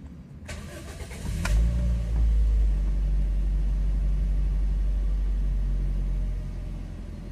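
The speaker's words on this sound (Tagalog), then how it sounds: "Switch off ko itong makina niya, tapos i-start ko ulit yan." A Toyota Vios engine is cranked with a short starter whir, catches, and then settles into a steady, loud low idle rumble that softens slightly near the end.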